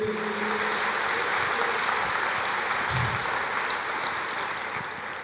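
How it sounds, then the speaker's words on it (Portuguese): Church congregation applauding during a sermon, a steady dense wash of clapping from many hands filling the space throughout, loud and continuous with a slight fade toward the end. "Pode aplaudir o Senhor, não tenha medo."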